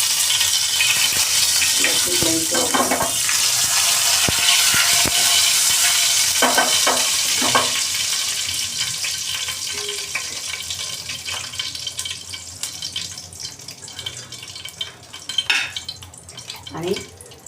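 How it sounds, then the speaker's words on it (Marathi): Surmai fish pieces frying in hot oil with curry leaves, a loud steady sizzle that gradually settles, with scraping utensil and pan clatter near the end. "तेल पण तापलेलं आहे. आता आपण मच्छी सोडायला घेऊया."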